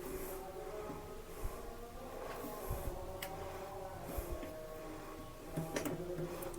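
A sewing machine stitches along folded fabric edges, giving a quiet, fast mechanical rattle with small ticks and occasional louder clicks, running steadily throughout and close by.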